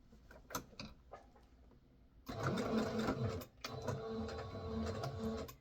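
Sewing machine stitching fabric with shirring thread, running loud and close in a continuous whir with a brief pause midway, after a few quiet handling clicks.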